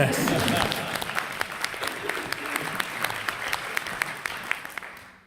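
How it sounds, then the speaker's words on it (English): Audience applause at a talk, starting as a dense wash of many hands and thinning into fewer, sharper individual claps as it fades out. "I think that should get a round of applause."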